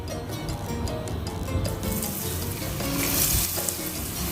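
Chayote shoots deep-fry in very hot oil, a busy crackling sizzle that swells louder and brighter partway through as more pieces go in, close by with no talking.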